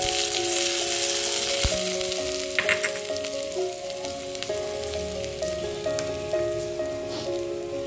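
Fried garlic tempering poured over spinach gives a loud, continuous close sizzle with dense crackling pops, fading slightly over several seconds while steady tonal music plays underneath.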